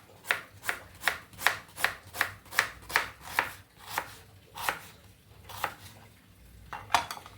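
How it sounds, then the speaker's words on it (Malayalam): An onion being roughly chopped with a knife on a board in a home kitchen: about a dozen crisp, evenly spaced cuts, close and clear, slowing toward the end, with no talking. "സവാള അരിഞ്ഞ് ചേർക്കാം."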